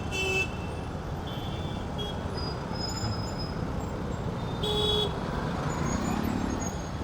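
Busy road traffic passes near petrol pumps in Chennai, with a steady engine rumble and road noise, several short horn toots scattered throughout, and vehicles moving at a moderate distance.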